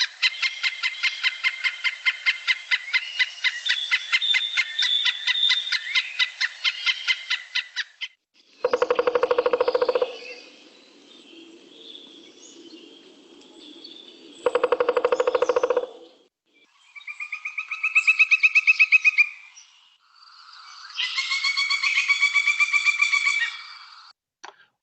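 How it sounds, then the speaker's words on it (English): A recorded pileated woodpecker gives loud, rapid series of ringing calls, a long run of quick repeated notes, then shorter bursts separated by pauses, heard alone against a quiet background. "when you hear the sound, you understand where the cartoon Woody Woodpecker got its sound"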